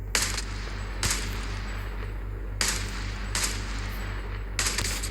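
Sniper rifle shots in the mobile shooter Call of Duty Mobile, five sharp cracks spaced unevenly over a steady game hum, each fairly loud and close, with no talking.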